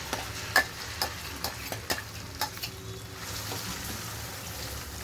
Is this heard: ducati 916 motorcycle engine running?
no